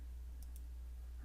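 Two quick, faint mouse clicks in succession over a low steady hum.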